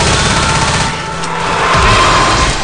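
Constant dense gunfire in a video game fills the whole stretch as a loud, steady roar of overlapping shots, with no clear gaps and no speech.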